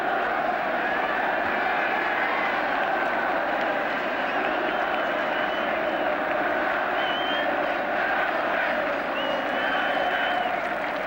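A huge stadium crowd clapping steadily at the 1976–77 FA Cup final between Manchester United and Liverpool, a continuous dense roar of applause with crowd noise, heard from a distance and holding constant throughout.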